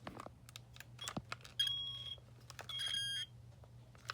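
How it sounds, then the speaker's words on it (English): A modern smoke alarm's dying chirp: two high, piercing electronic beeps that ramp up in loudness, each lasting about half a second, separated by quiet with faint clicks and handling noise. "It's got the ramp up too, which is rare for one of these. So yeah, this has a funny dying sound."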